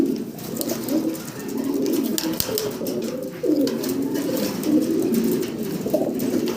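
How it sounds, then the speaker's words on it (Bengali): Many pigeons coo together in a steady, overlapping murmur that lasts throughout, close by and fairly loud, with no clear wing flapping, at a pigeon farm. "একসাথে অনেক কবুতর তো ছটফট ছটফট করতেছে"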